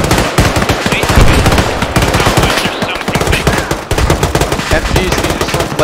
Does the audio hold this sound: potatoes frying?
no